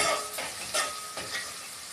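Ginger garlic paste frying in a pan with turmeric for ridge gourd moong dal, a steady close sizzle broken by a few louder bursts of stirring, no voices.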